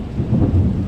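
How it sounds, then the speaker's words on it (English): A thunderstorm in Dallas County, Missouri: a loud, deep rumble of thunder rolling over steady rain, with no voices. "we're getting one heck of a thunderstorm here in Dallas County, Missouri"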